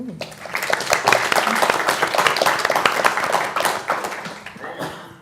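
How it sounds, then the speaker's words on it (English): An audience at a technology debate event claps for an arriving speaker, a loud, full round of applause that swells, holds, then thins out toward the end. "please, a round of applause for Mavis"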